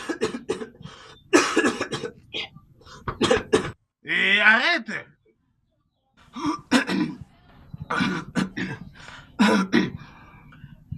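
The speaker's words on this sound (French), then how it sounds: "D'où te vient cette toux-là?" Repeated coughing and throat clearing in bursts from a person in a Congolese drama scene, with close speech between the coughs.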